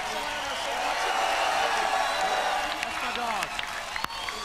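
A loud, continuous roar of crowd cheering and whooping fills an X Games inline skating venue, steady throughout with a few sharp bangs near the end.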